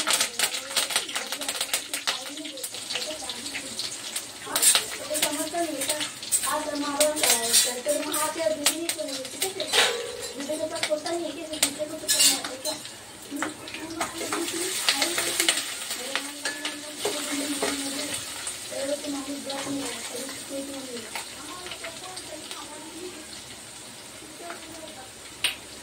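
Curry leaves sizzle and crackle in hot oil in a pan for sambar, a dense, busy spattering heard close up that goes on throughout under a voice.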